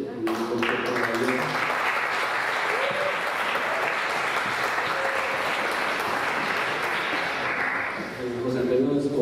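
A concert audience breaks into loud, sustained applause, a steady wash of many hands lasting several seconds, with a voice speaking briefly at the start and again as the clapping dies down.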